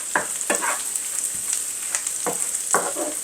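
Garlic sizzles in a hot pan as the base for a barbecue sauce, with a steady crackle and several louder bursts of frying and stirring spaced through the stretch, close by and with no voices.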